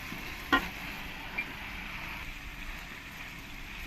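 Boiled pasta is stirred into vegetables with soy sauce and tomato sauce in a pan, with a low steady sizzle and an occasional soft scrape of the spoon, quiet and close.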